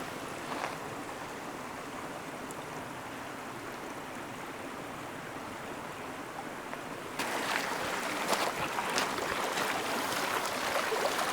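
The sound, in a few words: water trickling in a canyon stream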